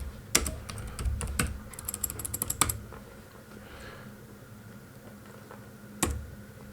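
Typing on a computer keyboard at a desk while entering input into a console program: a quick cluster of sharp key clicks, a few louder taps, then a pause with quiet room hum and one final keystroke.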